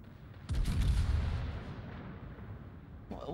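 The main guns of a Caracciolo, a tier 7 Italian battleship in World of Warships, fire a single heavy boom that rolls out into a long rumbling decay.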